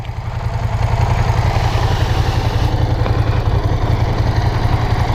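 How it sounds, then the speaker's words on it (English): A 2002 Ducati 620 Sport motorcycle idles close by, a loud steady throbbing engine rumble that swells in over the first second and then holds an even pulsing beat. "This is my little Ducati 620 Sport."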